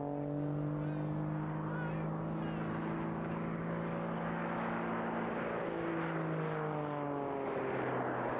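An aerobatic aircraft at the Eastbourne International Airshow performs rapid rolls while climbing, its steady engine drone holding loud and continuous with a slowly shifting pitch over a broad outdoor rumble.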